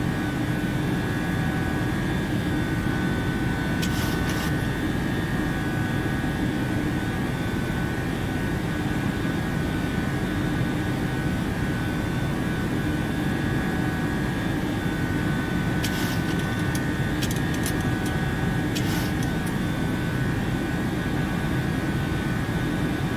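A PMDG Boeing 737-800 in Microsoft Flight Simulator climbs out on a Ryanair route, its steady jet engine roar and cockpit air hum droning continuously with a few faint clicks, no voices present.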